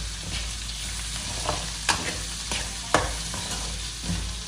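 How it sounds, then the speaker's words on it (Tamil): Handful of curry leaves sizzling in hot oil in a pan, a steady close frying hiss with a few sharp stirring clacks of a spoon, no talk. "இப்போ நம்ம எடுத்து ஒரு கைப்பிடி கருவேப்பிலை இப்போ போட்டுக்கோங்க."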